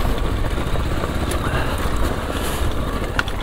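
A motorcycle works along an extreme hard-enduro trail, its engine a steady, fairly distant rumble that runs unbroken and alone with no voices.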